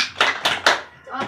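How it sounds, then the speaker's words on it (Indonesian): Children clap along to a classroom sing-along during a primary school teaching practice, three sharp evenly spaced claps followed by a softer fourth, close by and mixed with light voices. "Kalau kau senang hati tepuk tangan."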